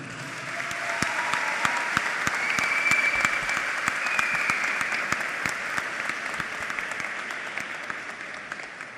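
An audience at a university rector-election debate applauds, steady, moderately distant clapping from a crowd, swelling slightly and holding for several seconds.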